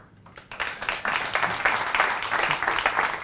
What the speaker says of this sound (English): Just clap myself, that's fine.